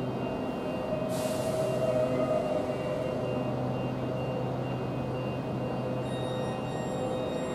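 A Class 395 train stands at Stratford International station, a steady mechanical hum with a brief hiss of air around the first second and faint tones later, no voices.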